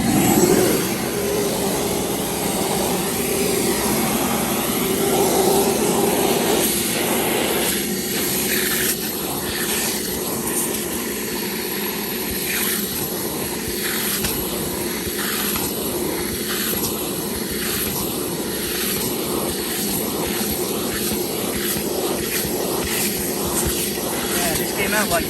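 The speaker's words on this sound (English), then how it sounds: "Grab the vacuum." A vacuum cleaner runs over car floor mats with a loud, steady whine for about twenty-five seconds, its suction tone shifting slightly as the nozzle moves.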